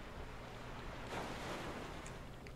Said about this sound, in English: Those are pretty good water effects, wow.